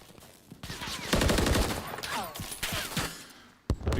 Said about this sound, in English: Exchange some shots across the mid-map cross.